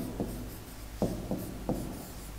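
A hand writes out a formula in a classroom lesson, giving four short, soft scratching strokes over a low steady background hum.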